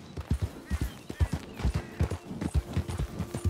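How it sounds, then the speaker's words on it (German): A horse's hooves clip-clop at a steady walking rhythm in Red Dead Redemption 2, a string of distinct thudding footfalls at moderate distance, fairly quiet and with no talk over them. "Na, das Pferd will ich jetzt mal nicht klauen"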